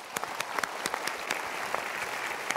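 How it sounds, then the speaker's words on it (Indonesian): Audience applause at a motivational talk, a dense wash of many hands clapping steadily with a few sharper individual claps standing out, fairly close and sustained throughout. "Kita berikan tepuk tangan dulu."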